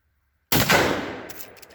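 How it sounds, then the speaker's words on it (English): A single heavy rifle report from a Henry lever-action chambered in .45-70 or .44 Magnum, a sudden loud blast after brief silence, then a long decaying echo rolling off through the rest of the moment. "Just a fun little comparison video between the 4570 and 44 Magnum out of our Henry lever action rifles."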